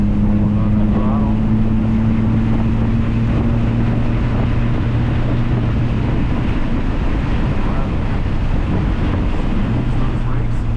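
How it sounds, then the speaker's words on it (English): Subaru WRX engine droning steadily under throttle on the Harris Hill race track, loud and constant with a sustained low tone, buffeted by wind noise for about eleven seconds. "Going on that throttle."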